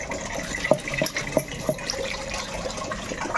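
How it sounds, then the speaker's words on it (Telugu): Fish are washed under running water: a steady splashing stream with a few sharp knocks and clinks, close by, with no voices. "మూడు నాలుగు సార్లు అయితే నీళ్ళు వేసి బాగా కడిగానండి"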